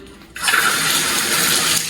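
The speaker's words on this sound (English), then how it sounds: "This is a shower. So you turn it on." An apartment shower is switched on, and water suddenly bursts out and runs in a steady, loud hiss that continues close by until the end.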